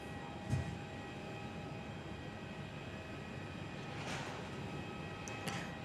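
An Air Mauritius airliner on final approach at Perth Airport gives off a steady, distant engine roar that stays even and moderately faint throughout, with no voices.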